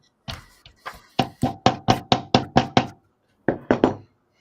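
Pieces being belted into place with a hammer: a quick rhythmic series of about a dozen sharp, close knocks, a short pause, then three more strikes, loud and clear with no talk.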